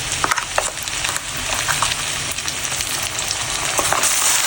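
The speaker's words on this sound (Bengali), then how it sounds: "এরপর মশলাটা দিয়ে দেওয়া হচ্ছে বেটে রাখা মশলা" Ground spice paste, added to crisply fried onions for a green prawn curry with coriander, sizzles loudly in the pan while being stirred, with scraping and crackling bursts over a constant frying hiss.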